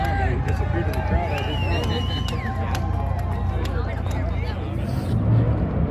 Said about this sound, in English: As you can hear, there's race cars in the background.